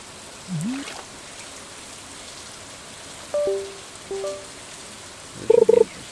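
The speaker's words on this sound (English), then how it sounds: "It's green rain today, though." Green rain falls in the video game Stardew Valley as a steady, soft patter. Brief frog-like croaks and a couple of short game chimes break through the rain.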